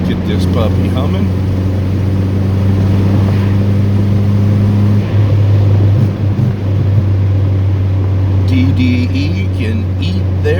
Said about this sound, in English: it's just a little 4-cylinder motor